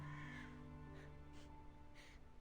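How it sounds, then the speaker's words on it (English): A crow-like bird caws a few times from far off in a video game scene, faint and spaced apart over a low steady background hum, with no speech. "A bird's cry drifts in from afar"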